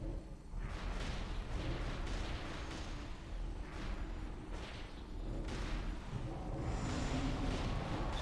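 Ship cannons firing during a gunship battle in World of Warcraft, a steady stream of booming shots and explosions under a loud continuous battle roar.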